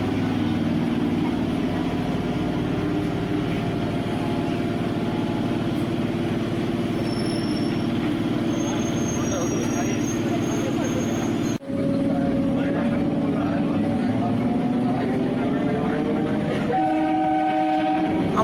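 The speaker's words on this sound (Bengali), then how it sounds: "আমাদের ট্রেন এখন লিলুয়া স্টেশন থেকে ছেড়ে দিল" A Howrah–Barddhaman chord line local train pulls out of Liluah station, its steady rumble loud and continuous. A brief break comes near the middle, and a short horn-like tone sounds toward the end.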